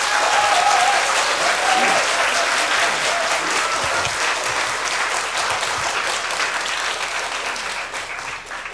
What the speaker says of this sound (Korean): 이런 주의 종을 멀리서 보내주신 하나님께 영광의 박수를 돌리도록 하겠습니다.